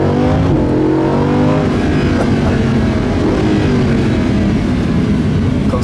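A Lamborghini Huracán LP610-4 accelerates in Strada mode on Stockholm streets, its loud, close engine rising in pitch through the gears as a continuous roar, with no talking.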